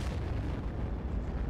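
A deep, heavy boom rolls on as a dense, continuous rumble for its whole length, a cannon blast in the video game Ravenfield, with no voices.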